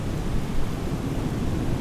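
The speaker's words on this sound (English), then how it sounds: "It is raining inside the hangar" Rain falls steadily inside an aircraft hangar in Microsoft Flight Simulator, a dense, continuous hiss with a low rumbling undertone, unbroken throughout.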